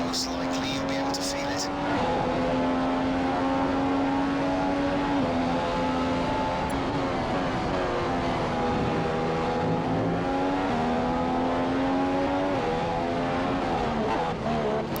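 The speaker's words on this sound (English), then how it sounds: "See if we can't outbrake Pastor Maldonado into the left-hander here." An F1 2015 race car engine screams at high revs in cockpit view, rising through gears and dropping under braking for a left-hand corner, loud and continuous throughout with a voice talking over it.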